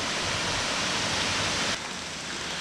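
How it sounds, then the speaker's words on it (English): A waterfall at the top of a hill in South Carolina gives a steady, broadband rushing roar, close and constant, dipping slightly in level partway through. "there is another waterfall right here, the top of the hill"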